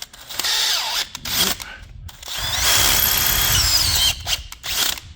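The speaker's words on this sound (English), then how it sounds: "I've already been up it with a smaller drill, just this is the final tickling up bit." Power drill opening up a bolt hole in an Iveco 75E15 horsebox, final pass after a smaller pilot drill; loud whining bursts with short pauses, steadying into a sustained grinding run before stopping and a brief restart.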